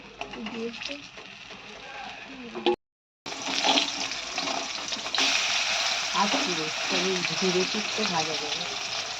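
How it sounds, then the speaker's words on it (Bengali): Banana flower fritters and bitter gourd frying in oil in a home kitchen, a steady broadband sizzle running throughout with a brief dropout, while someone talks over it. "তো এদিকে মোচার বড়াটা হচ্ছে, এদিকে দিয়ে দিয়েছি করলাটা ভাজতে"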